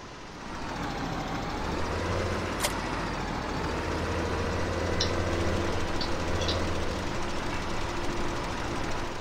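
Steady engine drone of a tractor in a farming video game on the Sosnovka map, a continuous low rumble with a faint whine on top, heard alone with no talking.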